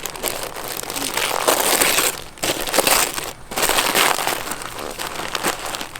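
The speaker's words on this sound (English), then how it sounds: "another plastic bag to open" Loud, continuous crinkling of plastic with brief pauses, close up, as a bag is handled and torn open; no talking.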